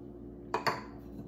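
A spoon clinks twice against a bowl while food is mixed with peanut sauce: two sharp, close clinks in quick succession over a faint steady hum.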